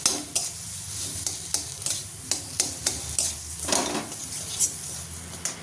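Food frying in a pan for a home-style Bengali Sunday meal is stirred with a utensil, giving regular scraping clinks against the pan over a steady sizzle, close and fairly loud with no talking.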